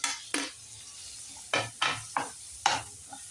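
A spatula scrapes and taps in a pan of tomato and onion-coconut paste frying with spices for a drumstick masala dish, about six distinct stirring strokes over a faint, steady sizzle.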